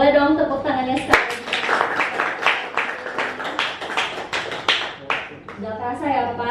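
An audience at a talk show on leadership and work motivation applauds: several seconds of steady, rhythmic hand clapping, with a voice speaking just before and after.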